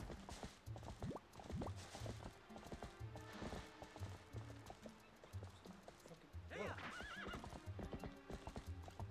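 A horse gallops with rhythmic clip-clop hoofbeats and lets out a clear neigh partway through in Zelda: Twilight Princess, with game music and effects under the steady pounding.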